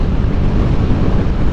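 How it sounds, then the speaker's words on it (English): Steady roaring wind buffets a microphone outdoors on a bright, windy day of about 15 miles per hour, a loud continuous rumble with no pauses and no voices. "It's a little windy."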